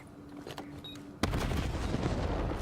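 A grenade goes off in a Call of Duty esports match, a sudden loud boom that leaves a sustained roar of rumbling debris after a quieter stretch with faint in-game beeps.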